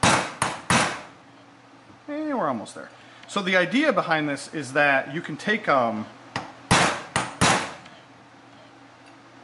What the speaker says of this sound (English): So we're basically just going to use a brass punch. Once again, this would work a lot better had it been held in a vise. We're going to use a framing hammer.